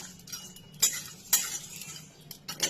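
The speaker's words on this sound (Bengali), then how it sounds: "এখন গরম মশলাটা ভাজছি।" Garam masala spices dry-roasting in a pan while a metal utensil stirs them, giving scattered scraping clinks and a few sharper knocks over a faint sizzle, close and moderately quiet.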